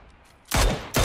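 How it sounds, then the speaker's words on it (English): Gunfire in the battle royale game PUBG, played in first-person duo mode: two loud, close rapid bursts of shots, the second cut off, with quiet game ambience before them. "I'm gonna take shots."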